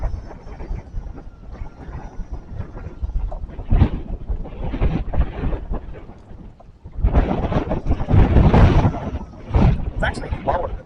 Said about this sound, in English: There might be a good gust coming.